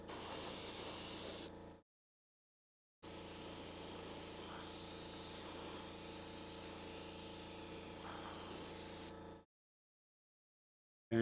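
Spray can misting white paint onto a model spider, two steady hissing bursts of about two and six seconds separated by silence, close and fairly loud.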